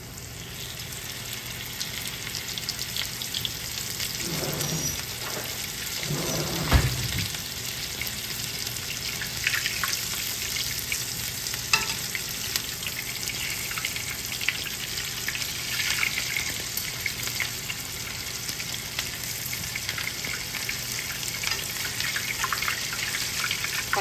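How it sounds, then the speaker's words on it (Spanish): Zacatecas-style tacos envenenados fry in hot oil with a constant crackling hiss at low-to-moderate loudness. A few soft clinks and thumps come early on, and the frying continues without talk. "Pues vamos a llevarlos a freír."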